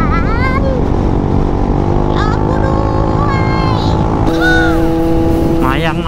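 A big bike and a Yamaha Xmax scooter ride fast on the road, with a steady, loud engine and wind roar throughout and people talking over it.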